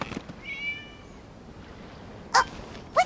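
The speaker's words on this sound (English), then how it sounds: "It was just a cat." Cat meowing in the video game Genshin Impact, one drawn-out meow early on, then two short, sharp meows near the end, fairly faint against a quiet background.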